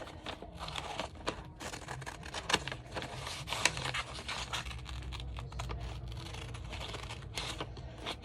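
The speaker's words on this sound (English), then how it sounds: "Then we're going to take some scissors and cut a hole in them in a circle" Scissors snip through paper or card while cutting out a circular hole for a moon painting craft. A close, quiet run of irregular crisp cuts and rustles carries on throughout with no talk.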